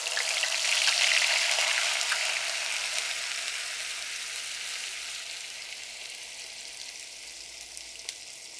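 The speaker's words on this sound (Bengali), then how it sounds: "আর এখন এখানে আমি পেঁয়াজ বাটা দিয়ে দিচ্ছি আধা কাপ" Half a cup of onion paste frying in hot oil for eggplant kofta curry, a bright continuous sizzle that starts loud and slowly settles, with no talking.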